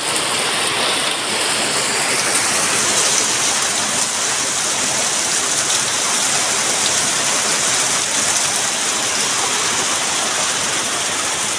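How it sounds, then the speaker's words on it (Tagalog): Heavy typhoon rain from Bebinca pours down steadily on Burias Island, a loud, dense, unbroken roar that holds without letup throughout. "Lakas na ng ulan, oh."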